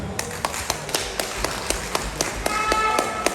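Crowd at a PNP party division conference claps in a fast, steady rhythm, sharp handclaps about four per second over a dense, loud background of crowd noise.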